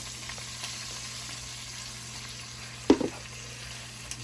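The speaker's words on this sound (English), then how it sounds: "Stir this around. You gotta cook this flour for a couple minutes." Flour and red chili powder frying in oil for red chile enchilada sauce, a steady low sizzle with a single sharp scrape of stirring near the end, no voices.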